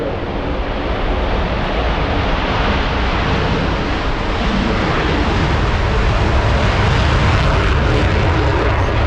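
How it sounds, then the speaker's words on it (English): US Air Force F-22 Raptor jet at an airshow in Michigan, a loud sustained roaring rush of jet engine noise that fills the whole stretch without pause. "Ladies and gentlemen, I present to you the most feared aircraft in the world today, your United States Air Force F-22 Raptor."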